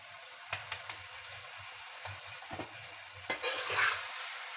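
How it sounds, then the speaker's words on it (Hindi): Vegetables and meat for a turnip and mutton curry sizzle and fry in a pan, with a spoon scraping and stirring in repeated close strokes over a quiet steady hiss. "अभी इसको हमने ज़रा अच्छी तरह भूनना है।"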